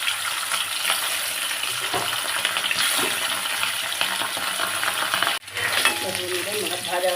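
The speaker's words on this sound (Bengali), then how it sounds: "দেখো বন্ধুরা, এই যে তেল গরম হয়ে গেছে। এবার এর মতো মাছগুলো দিই।" Tilapia fish fry in hot oil. A loud, close, continuous sizzle crackles throughout, with a few light clinks and a short dip before the frying surges back.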